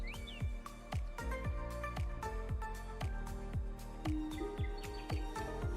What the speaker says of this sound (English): You have bird sounds with nice little music there, if you can hear that.